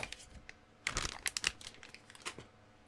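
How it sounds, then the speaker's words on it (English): Plastic packaging bags from a video card box crinkle and rustle close by in short, irregular bursts. "Sorry about all the crinkling."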